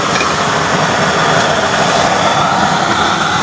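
Burner with a new short-chamber 24-hole nozzle without top holes, giving a steady, loud, close roar like a jet engine, continuous and unbroken with no voices.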